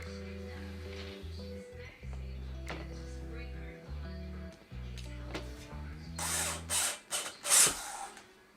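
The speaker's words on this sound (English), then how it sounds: "So now I'm about to screw these brackets on" Power screwdriver driving screws through brackets while a Fezibo standing desk is assembled: several whirring bursts of the motor in rising and falling pulses, separated by short pauses, then handling clatter, with no talk.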